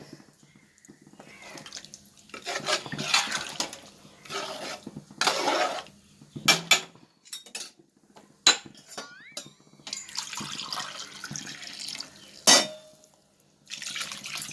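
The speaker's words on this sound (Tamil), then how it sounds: "அரிசிக்கு எட்டு கிளாஸ் தண்ணி ஊற்றிருக்கேன்" Water, eight glasses for the rice, is poured into a pot for a cumin samba mutton biryani, heard as close, intermittent splashing bursts with clinks of metal cookware between them.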